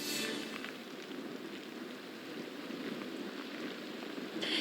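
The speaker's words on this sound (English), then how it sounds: "it's getting a little bit windier out here, and the rain is coming down much harder" Heavy wind-driven rain from Hurricane Idalia in Ware County pours down as a steady, dense hiss, continuous and loud throughout, with gusting wind mixed in.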